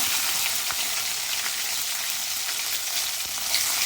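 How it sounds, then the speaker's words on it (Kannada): Onion and curry leaves frying in a pan with cumin seeds for raw mango chitranna, giving a steady, loud sizzle with a few light clicks of stirring, no voices. "ಇದೆಲ್ಲ ಫ್ರೈ ಮಾಡ್ಕೊಳ್ಳೋಣ ಇವಾಗ ಸ್ವಲ್ಪ ಕರಿಬೇವು ಸೊಪ್ಪು ಈರುಳ್ಳಿ"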